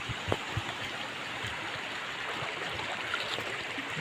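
Water flowing steadily in a small stream or creek, a continuous broadband rush with occasional low gurgles and splashes, moderately close and without voices.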